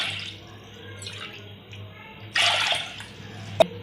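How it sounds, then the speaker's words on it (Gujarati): About two bowls of water are poured into lentils for boiling, a short splashing gush lasting under a second, followed by a sharp clink of a vessel after faint kitchen rustling. "તો અહીંયા આપણે 2 વાટકી જેટલું પાણી ઉમેરશું।"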